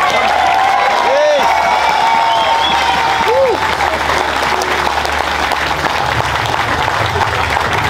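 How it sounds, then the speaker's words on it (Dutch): Loud crowd applause at a Dutch carnival prince's farewell celebration with the court ladies, a dense steady wash of clapping with some whoops and cheering, voices calling out over it throughout. "Dus krijgen jullie van ons een applaus."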